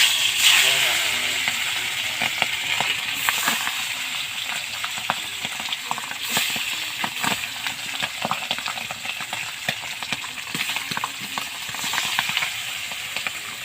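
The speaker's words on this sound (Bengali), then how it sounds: "মাছটা আমি ভেজে নিচ্ছি ভালো করে।" Fish pieces coated with salt and turmeric fry in hot oil, giving a loud, constant crackling sizzle close by, with occasional stirring scrapes throughout.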